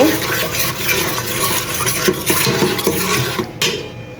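Spice masala with ground coriander is stirred and fried in a pan, producing a loud, steady scraping and sizzling with rhythmic spoon strokes against the metal, close up, and faint speech in the background.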